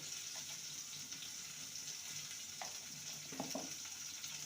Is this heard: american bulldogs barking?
no